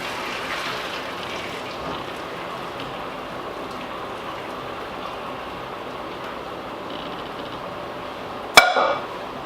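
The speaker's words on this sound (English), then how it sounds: "I'm just gonna strain them out, get all the hot water out of there." Hot water pours from cooked noodles through a strainer into a sink, a steady splashing hiss for several seconds, ending in a sharp metallic clank.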